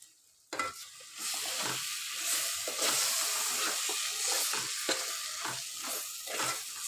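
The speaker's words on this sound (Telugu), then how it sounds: "అడగంటకుండా దగ్గరే ఉండి మంచిగా కలుపుకోవాలి, లేకపోతే అడగంటుతుంది." A paneer masala curry sizzles in a pan while being stirred, giving a steady frying hiss broken by repeated scraping strokes at close range.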